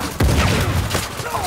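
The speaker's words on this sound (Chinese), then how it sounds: "他那个榴弹发射器。" A grenade launcher fires in the Uncharted 4 video game, one sharp heavy boom followed by rumbling combat noise, with a voice talking over it.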